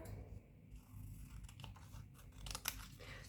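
Scissors cut through dress fabric in a quiet sequence of soft crunching snips, close but faint, with no talk over them.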